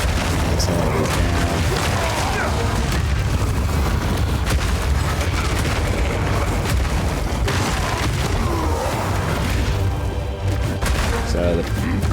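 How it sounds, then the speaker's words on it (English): In Path of Exile 2, a war cry detonates a cluster of Earthshatter spikes, setting off a dense, continuous wall of heavy booming explosions that plays loud and sustained under a player talking. "we put a bunch of earth shatters down, and we explode in the war cry"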